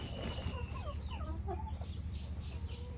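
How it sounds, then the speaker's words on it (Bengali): Tiger breed chickens cluck steadily at close range, with overlapping clucks over a constant, noisy farm background. "অরিজিনাল টাইগার মুরগি এগুলো অরিজিনাল মুরগি পাবেন আমাদের কাছ থেকে"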